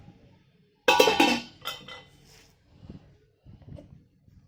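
A lid set down over a pan of semolina and potato toast sprinkled with white sesame makes one sharp, close metallic clank, followed by a few faint rattles and soft knocks.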